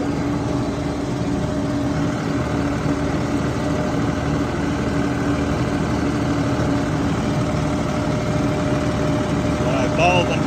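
A Massey Ferguson 2607H tractor engine works in low second gear while bush hogging, a steady loud drone running throughout with a constant hum and a few clanks near the end.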